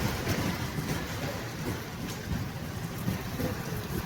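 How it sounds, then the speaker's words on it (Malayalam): Very heavy rain near Kochi International Airport, a dense, steady roar of downpour with a low rumbling undertone and no pauses, close and continuous with no voices. "അതിശക്തമായ മഴ"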